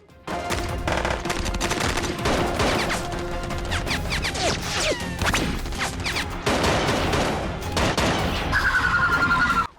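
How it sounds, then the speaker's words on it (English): Gunfire in an action TV episode from the series Arrow: rapid bursts of shots, crashes and impacts pile up densely for about ten seconds, loud and continuous, with dramatic score underneath. "Oh shit, she shot him."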